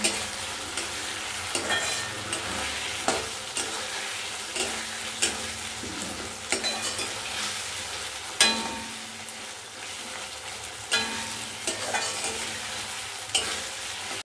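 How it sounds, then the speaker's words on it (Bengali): Chopped tomatoes with salt, turmeric and a little sugar frying in a pan, a continuous sizzle broken by sharp, regular spatula scrapes and knocks every second or two, close and without talk. "টমেটোও দিয়ে দিয়েছি, ভালো করে কষিয়ে নেব"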